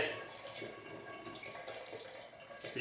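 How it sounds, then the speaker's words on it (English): Warm water pours steadily into a container for orange and mandarin mead, a continuous splashing, trickling flow at moderate loudness with no pause. "Get that nice warm water in there."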